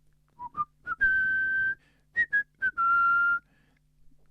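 A man whistles a football club anthem, Barça's, in a series of short rising notes followed by two long sustained tones, clear and close with no talk.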